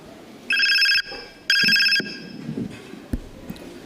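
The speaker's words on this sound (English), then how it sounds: "Phone rings." A phone rings in a home during a Teachers Day skit, two clear bursts of an electronic ringtone about a second long each, followed by quieter household movement and a sharp knock.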